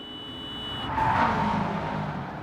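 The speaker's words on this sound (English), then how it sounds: "You can hear the guys beeping the horn in the background already" Short electronic car horn beeps sound over a busy, steady engine roar in Gran Turismo 7, the tones rising briefly above the background noise.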